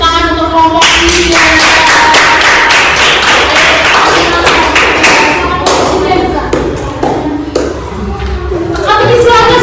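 A class of primary school pupils claps for a group of classmates, loud dense applause running steadily close by, with thumps and taps mixed in before it thins and swells again.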